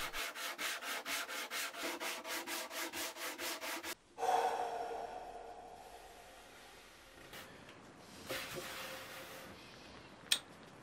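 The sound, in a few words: sanding wood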